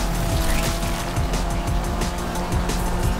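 Cars racing on a track in Need for Speed Unbound: a steady, loud engine roar with rising revs and tire squeal, continuous and close throughout.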